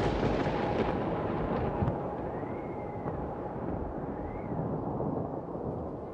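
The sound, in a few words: storm with roaring flooded river in a cartoon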